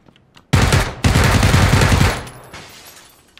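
A loud, close burst of automatic gunfire from the PUBG video game rattles for about a second and a half, then trails off into a fading echo.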